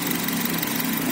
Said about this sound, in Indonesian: Ya, ini mesinnya.